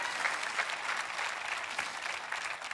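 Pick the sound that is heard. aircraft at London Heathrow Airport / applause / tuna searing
applause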